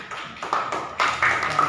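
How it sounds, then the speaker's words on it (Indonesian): A short burst of classroom applause for a student, several hands clapping in uneven bursts, fairly close and loud. "Yuk tepuk tangan buat Putri yuk"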